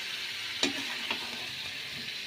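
Young jackfruit curry with a splash of water sizzles steadily in a pan as a continuous hiss, broken by two soft scraping strokes of stirring, fairly close.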